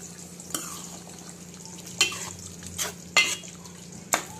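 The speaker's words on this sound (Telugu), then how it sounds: "ఒకసారి కూర తిప్పుకోండి" A spoon stirs dosakaya (yellow cucumber) mutton curry in a pot, making about five distinct scraping, clinking strokes against the metal over a faint background sizzle.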